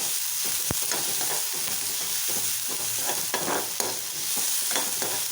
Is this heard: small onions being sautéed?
yes